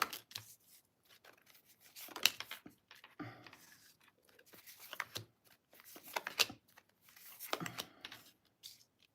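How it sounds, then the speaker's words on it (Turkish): Tarot cards being shuffled by hand, soft close riffling and papery slides in irregular bursts, quiet and alone with no talk. "şu an kartımı karıştırıyorum ve kartlarımı karıştırıyorum ve çekiyorum kartları"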